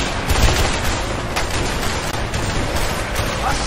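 Rapid gunfire rattles through a shootout in the co-op video game A Way Out, dense overlapping shots and bursts filling the whole stretch at close, loud range.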